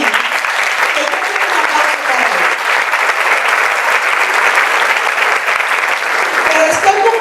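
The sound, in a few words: audience giving a strong round of applause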